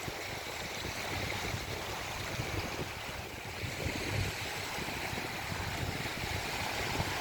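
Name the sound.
river water flowing in a Canadian forest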